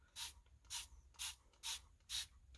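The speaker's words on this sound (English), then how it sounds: "she'll take her spray bottle" A spray bottle mists water onto painted furniture in five short, evenly spaced hissing bursts, close and fairly quiet, with brief pauses between squeezes.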